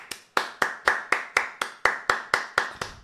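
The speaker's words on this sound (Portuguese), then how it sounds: "Uma salva de palmas aí, mano." A single pair of hands claps about eleven times in a steady, evenly spaced rhythm, each clap sharp and close, with no voices present.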